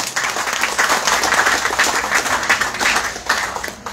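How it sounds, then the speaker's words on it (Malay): Sustained applause from an audience at a Johor state election campaign rally, steady dense clapping that holds at full strength throughout with no talk over it. "kita berikan tepukan paling bergemuruh untuk ARA"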